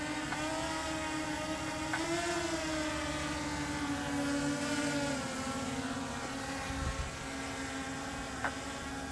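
Motors of a DJI Mini 5 Pro drone caught in grass, straining with a steady, loud buzzing whine whose pitch wavers slightly as they overdrive, continuous throughout.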